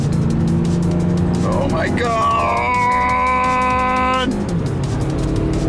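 A convertible car on a road makes a final full-throttle pull, its engine note climbing in pitch as it accelerates hard, loud and close, with wind noise and an excited shout.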